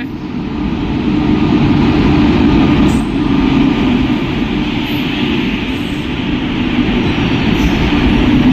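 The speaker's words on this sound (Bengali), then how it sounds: "এই যে আমাদের ট্রেন ঢুকছে।" Deep, continuous rumble of an Indian Railways train arriving at a station, loud and close, with a steady low roar and faint rattling throughout.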